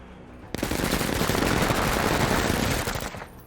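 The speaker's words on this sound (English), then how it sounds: "Chain gunners can't ding the APC, so they're going for softer targets." Chain guns firing in a combat video game: one loud, continuous automatic burst lasting nearly three seconds, starting abruptly and cutting off, with no talk over it.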